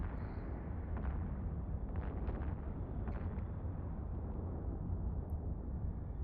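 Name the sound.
missile launcher fire and explosions in Eve Online video game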